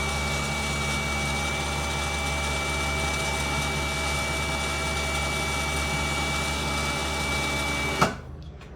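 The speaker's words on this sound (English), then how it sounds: "It's not terribly fast, but these bigger winches never really are that fast" A Harbor Freight Apex 5500 winch, mounted on a Pioneer 1000, runs with a steady electric-motor whine and geared hum for about eight seconds. It stops abruptly with a clunk, then falls quiet.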